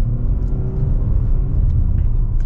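A 2022 Mitsubishi Outlander with a CVT transmission drives along, heard from inside as a steady, loud low rumble of engine and road noise without obvious shifts.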